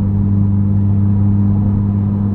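Modified 2021 Honda Civic Type R exhaust in comfort mode, a steady low engine drone with a strong bass hum, heard from inside the car while cruising, continuous and moderately loud.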